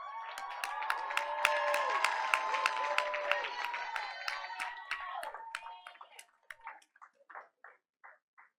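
A school board meeting audience applauds and cheers for a seventh-grade student receiving an Outstanding Student Award, with dense clapping and a few shouts that thin out into scattered last claps.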